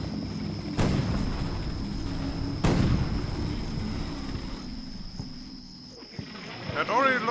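An artillery bombardment in Combat Mission Fire and Rubble, set in Berlin in 1945, sends two heavy booms about two seconds apart, with rumbling battle noise in between and lingering afterward.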